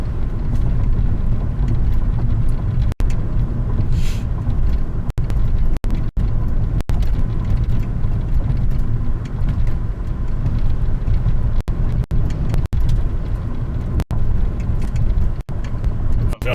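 Steady road noise heard from inside a car on a drive watching for severe weather, a loud continuous low rumble with occasional clicks and bumps and no break throughout.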